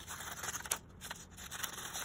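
Scissors snipping through paper to cut out a blank number strip, a few faint, close crisp cuts and rustles over about two seconds.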